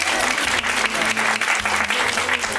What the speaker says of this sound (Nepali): फेरि पनि ताली बजाउँ।